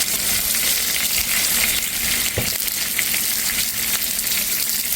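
Eggplant slices fry in oil over low heat, giving a steady, close sizzling hiss with faint crackles and one brief clink in the middle; no one speaks.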